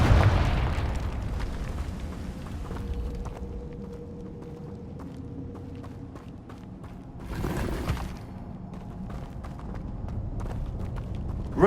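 A Confringo blasting spell goes off in Hogwarts Legacy with a loud opening explosion, then a rumbling low tail and a second burst partway through. Faint game ambience and scattered clatter continue around it.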